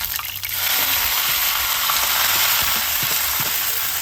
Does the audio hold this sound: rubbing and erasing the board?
no